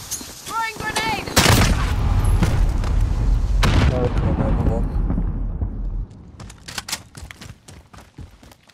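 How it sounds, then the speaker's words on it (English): A grenade goes off in a military shooter game as a loud, sustained blast of booming explosion and crackling gunfire. Bursts of game voices play over it, and scattered sharp shots trail off near the end. "Throwing grenade!"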